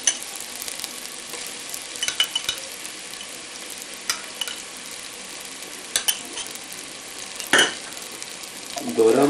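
Onion and garlic frying in a pan for a spinach stew, a steady close sizzle with occasional stirring scrapes and a brief louder clatter near the end.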